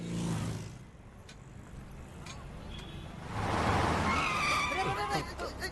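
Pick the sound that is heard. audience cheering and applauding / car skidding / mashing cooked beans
car skidding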